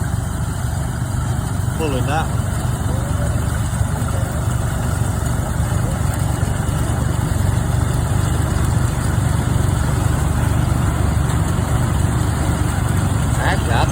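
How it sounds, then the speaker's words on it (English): An old McCormick Farmall tractor engine runs at an antique farm show, a steady low rumble that continues throughout while people talk nearby. "that's an old McCormick Farmall tractor"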